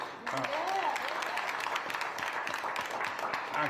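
Applause breaks out at a village trustee meeting, a brief burst of clapping from the room with a voice talking over it.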